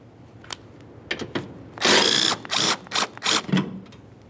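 A power tool or ratchet backs out a 10mm bolt holding the washer reservoir on a 1998-2011 Ford Ranger: a few short clicks, then several loud close bursts of whirring in quick succession.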